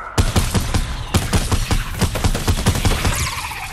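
Rapid automatic gunfire in a video game, a steady stream of loud, evenly spaced shots with a brief pause near the start, heard up close and alone.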